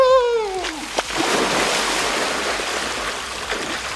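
A rider reaches the bottom of a water slide on a hot day: a voice whoops briefly, then a loud splash gives way to steady rushing, churning water that continues to the end.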